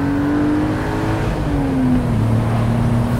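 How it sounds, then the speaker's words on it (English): A BMW Z3 3.0i engine revs hard at wide open throttle up into its rev limiter, a loud, steady rising engine note alone close by. "Into the rev limiter."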